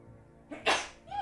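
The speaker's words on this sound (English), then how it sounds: "you would have all freaked out by now that I've just sneezed" One sharp, close sneeze from a person indoors, a quick intake then a loud burst, followed by a short voiced sound.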